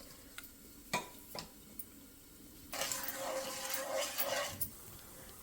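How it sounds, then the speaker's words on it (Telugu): Sugar stirred into water in a pan for sweet pongal syrup gives a few light clinks and taps, then a couple of seconds of steady swishing and scraping, close and fairly quiet. "సో షుగర్ వేసి ఒకసారి మిక్స్ చేసేసుకుందాం."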